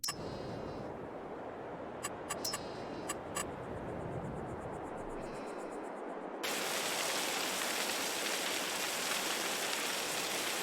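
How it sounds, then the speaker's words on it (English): Steady, dense rain hiss in the video game Farming Simulator 22 fills the scene, shifting midway to a brighter, louder downpour, with a few faint ticking clicks early on. "So it sounds like it's raining."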